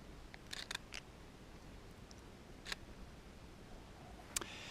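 A camera in full manual mode is triggered with a remote shutter release outdoors, giving several short, crisp mechanical clicks: a quick cluster early on, then single snaps spaced apart against a quiet background.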